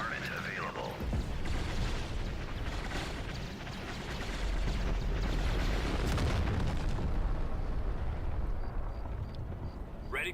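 Orbital bombardment in the Empire at War video game, a sustained rumbling barrage of heavy explosions that swells and holds loud over several seconds before tapering off.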